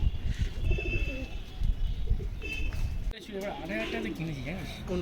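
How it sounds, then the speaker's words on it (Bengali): Andra pigeons coo softly in repeated throaty warbles nearby, including a female, while a person talks over them. "এই একটা পায়রা দেখুন মালা পায়রা এটা মেয়ে পায়রা আছে"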